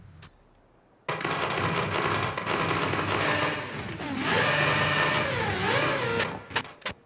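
A car engine after an engine swap in a video game starts abruptly after a quiet moment, then holds a loud, buzzing whine with revs rising and falling before it cuts off, followed by a few ticks.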